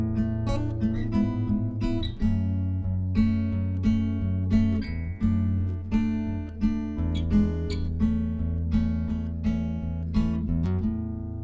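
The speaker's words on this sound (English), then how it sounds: "So we're going to start off with our intro, and that sounds like this." A guitar plays the intro to a song, a fingerpicked pattern of bass notes and plucked chord tones with a gentle rolling rhythm, close and clear with no voices.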